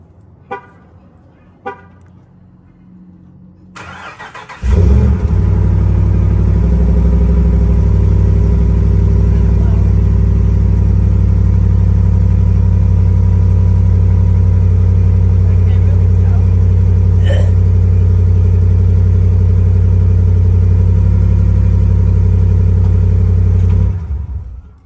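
A Ram 1500 pickup with a Flowmaster exhaust cranks and fires, then settles into a loud, deep, steady idle that holds for about twenty seconds before cutting off; a few faint knocks come just before the start.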